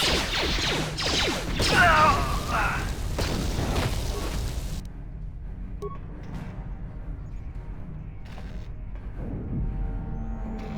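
A grenade goes off in Knights of the Old Republic amid combat, a loud crashing burst with clattering mechanical noise that cuts off abruptly into a quieter, low rumbling background.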